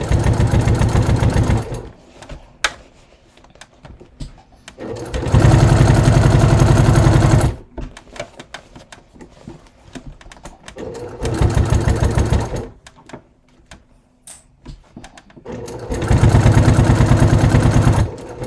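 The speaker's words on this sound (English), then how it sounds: "So I'm going to top stitch this, mark the grommets, and then sew the straps" A sewing machine top stitches a leather bucket bag, running in loud, steady bursts of a few seconds each, separated by quieter pauses.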